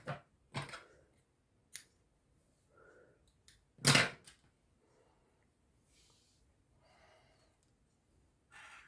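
Scissors snip through knitting yarn while finishing a cable-front cardigan: a handful of sharp, close cuts spaced by quiet pauses, with no talking.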